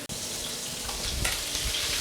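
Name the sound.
pork chops pan searing in a pan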